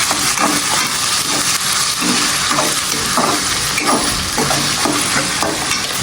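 Chicken frying in a pan with ginger and garlic while being stirred, a loud constant sizzle with regular scraping strokes from the stirring, close up, with no talking.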